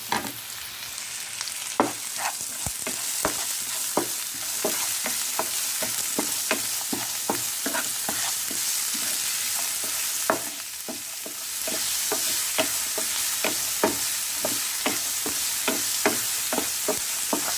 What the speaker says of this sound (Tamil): உப்பு சேர்த்தா தான் வெங்காயம் சீக்கிரமாக வதங்கும்.